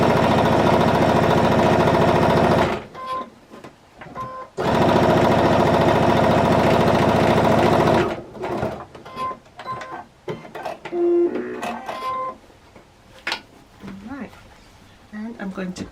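Sewing machine stitching a quilted tote bag from jelly roll fabric strips, loud steady motor-driven whirring in two long runs separated by a short pause, followed by softer handling noises, close by.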